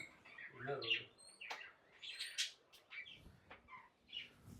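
A green parrot at a caged-animal enclosure calls in short, bright chirps and squawks, spaced irregularly over a few seconds, with some faint background voices and ambient noise.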